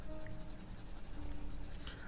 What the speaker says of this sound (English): I'm just going to show you how I will do some quick braids with a pencil